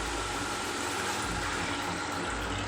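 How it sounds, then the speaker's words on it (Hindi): Water poured from a bowl into a cooking pot of rice for kofta pulao, a steady close splashing gush lasting a few seconds with no talk. "1 बाउल पानी, और थोड़ा सा ऊपर डालेंगे हम इसके अंदर"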